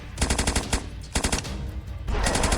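Bursts of rapid machine gun fire cut down zombies in the Flash shooter Dead Zed 2, with two long rattling volleys, a short pause between them, then a third burst starting near the end.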